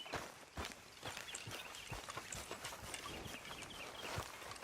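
Faint, soft horse hoofbeats in the video game Red Dead Redemption 2 clop along in a steady walking rhythm, quiet and a little distant, with no voices.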